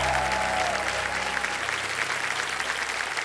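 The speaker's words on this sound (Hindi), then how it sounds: "जोरदार तालियां बज जाए, लग रहा है।" Studio audience applause on the Kaun Banega Crorepati quiz show set, a dense, steady wash of many clapping hands, loud and continuous throughout, with a faint voice at the very start.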